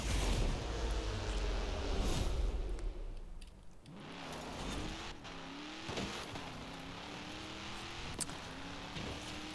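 A car engine in the racing game Forza Horizon 4 roars loudly, revving high, dropping off, then climbing again through gear changes with rising and falling pitch, alone without talk.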